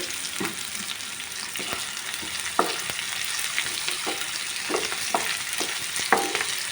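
Thinly sliced small onions frying in a pan for a moong dal and cauliflower curry give a steady close sizzle, broken by spatula scrapes and taps at irregular intervals as they are stirred. No voices.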